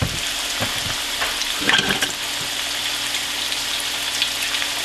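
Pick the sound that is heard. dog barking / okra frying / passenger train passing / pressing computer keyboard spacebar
okra frying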